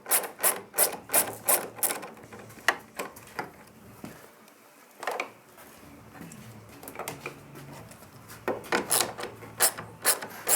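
Close, rhythmic ratcheting and scraping bursts from an 8mm socket turning a mirror bolt on a 2019 Can-Am Spyder F3 motorcycle, in quick clusters with a brief pause midway.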